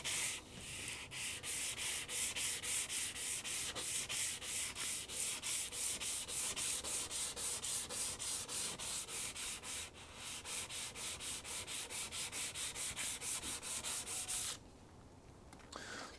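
A card scraper rubbed on sandpaper in steady rhythmic strokes, roughly two per second for about fifteen seconds, with a short pause midway and the rasping stopping near the end.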